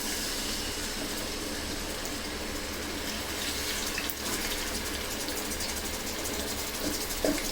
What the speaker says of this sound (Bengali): তেলটা গরম হলে রোস্টের পিসগুলি দিয়ে দিচ্ছি